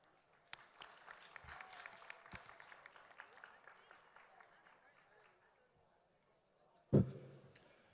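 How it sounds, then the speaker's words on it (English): A conference plenary audience gives a speaker light, scattered applause: faint, thin clapping that tapers off, with a voice nearby and a sharp louder bump near the end. "Can we give a round of applause for Ahmed?"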